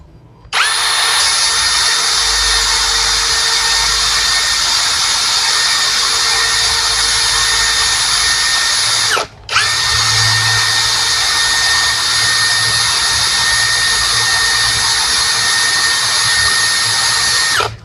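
INGCO CIDLI209681 cordless 13mm impact drill running at speed 2: loud, steady high-pitched motor whine held for several seconds, a brief stop, then another long continuous run, close and alone.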